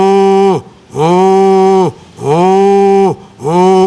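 A voice imitates a cow mooing: three long, loud, nasal moos in close succession, each rising and falling, followed by the start of a fourth.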